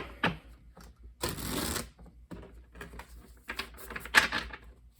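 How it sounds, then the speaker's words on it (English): A tarot deck is shuffled in quick riffles and soft card slaps close by, in short irregular bursts separated by brief pauses, with no speech. "let me get one more shuffle going"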